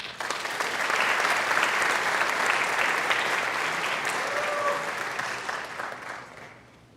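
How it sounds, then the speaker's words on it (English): Applause at a high school senior awards ceremony, a large indoor audience clapping in a dense, sustained burst that swells and then fades out near the end. "give yourself a round of applause"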